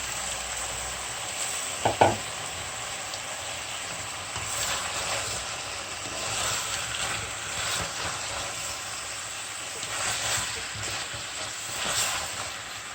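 Steady sizzling and frying of sliced zucchini in a pot, with occasional stirring scrapes and a brief clatter near the start.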